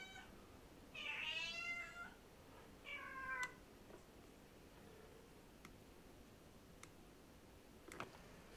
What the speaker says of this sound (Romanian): O pisică. O pisică.